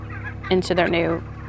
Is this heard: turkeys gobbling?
yes